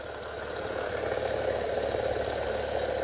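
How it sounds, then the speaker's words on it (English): A 3D printed rotor spins on a Bedini circuit motor, giving a steady mid-pitched hum with slight vibration that builds a little in loudness. "But it works great with the Bedini circuit. Nice and smooth. A little bit of vibration"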